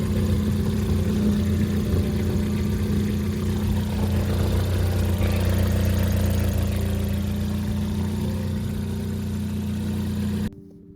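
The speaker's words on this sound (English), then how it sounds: "the engine ticking is absolutely abysmal in this car" A turbocharged Ford Focus ST with a direct injection engine runs at a steady idle, loud and close, a constant low drone carrying a fine ticking before cutting off abruptly near the end.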